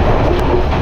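A train passing very close on railway tracks in Sri Lanka makes a loud, continuous rumble and clatter of wheels, steady throughout with no talking.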